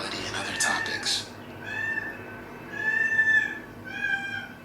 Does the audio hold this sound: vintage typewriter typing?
no